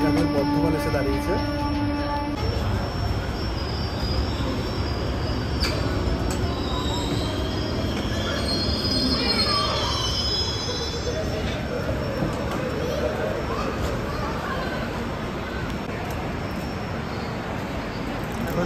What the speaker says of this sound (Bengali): আমাদের ট্রেন এখন বর্ধমান এসে দাঁড়িয়েছে